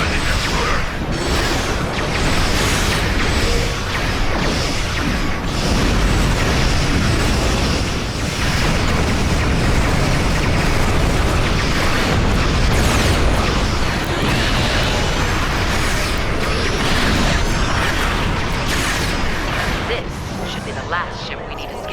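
Starship weapons fire and explosions in Star Trek Online, with dense continuous booms, bursts and rumbling blasts. Loud throughout, with voices talking over the barrage.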